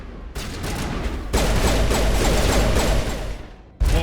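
Combat gunfire in the video game Mass Effect Legendary Edition, loud dense rapid bursts that run almost continuously after a brief pause, with a fresh burst starting right at the end.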